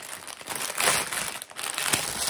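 Close, continuous crinkling of plastic wrapping around a cross-stitch canvas being handled, with louder rustling bursts and no talking.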